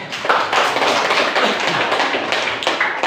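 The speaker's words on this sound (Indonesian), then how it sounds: "Tepuk tangan kelompok." Classroom group applause, a dense burst of many hands clapping together for a few seconds, loud and close with no talking.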